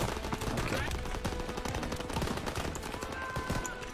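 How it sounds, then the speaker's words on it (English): Rapid bursts of gunfire from a gun in Call of Duty: WWII crackle loud and close in dense, repeated volleys with almost no gaps, and a voice talks faintly beneath them. "Kinda hard shooting with this gun."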